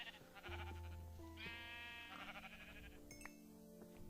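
Sheep from the Minecraft video game bleat in a few drawn-out, wavering calls, clear and fairly close, over a steady hum of game ambience with no talking.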